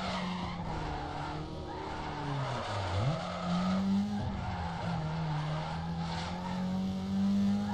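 Car drifting through a long corner in Need for Speed Underground 2, with a sustained, wavering tire squeal over a droning engine note. The squeal dips briefly midway, then stays loud and continuous throughout.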